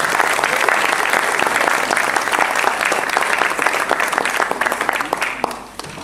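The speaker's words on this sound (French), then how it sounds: "je vous demanderai d'applaudir Sébastien Ramier de Noyades-Pontivy" Steady, dense applause from an audience at a regional billiards tournament in Côtes-d'Armor, a full sustained burst of many hands clapping close and loud that tapers slightly at the very end.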